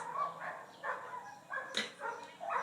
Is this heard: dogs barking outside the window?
yes